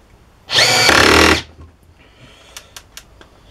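A Workzone 12V cordless drill drives a screw straight into wood without a pilot hole, giving one loud whirring burst of about a second, followed by a few faint clicks and taps.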